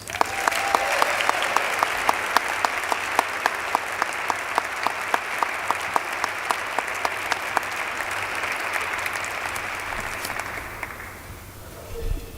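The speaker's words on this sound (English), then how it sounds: "Everyone, please join me in giving Leland Melvin another round of applause" Audience at the 2023 SPIDYS Awards giving Leland Melvin another round of applause, a sustained crowd clapping with a few sharp claps standing out, fading away near the end.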